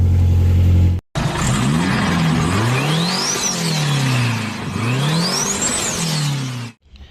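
Nissan QR25DE four-cylinder engine catching on its first start after a motor swap, then revving up and down twice with a rising and falling whine, loud and close, before cutting off.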